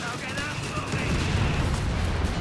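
Flak 36 anti-aircraft gun firing in the World War II strategy game Company of Heroes 3, a dense rumble of rapid, continuous bursts and booms under battle noise, with a voice talking over it.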